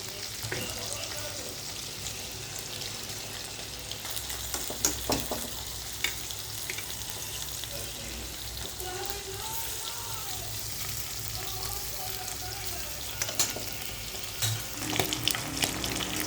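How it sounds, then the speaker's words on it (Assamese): Small tingora fish crackle and sizzle in hot oil, a constant frying hiss with occasional sharper pops and faint clinks, no speech. "এতিয়া মাছখিনি ভাজিবলৈ দিলোঁ।"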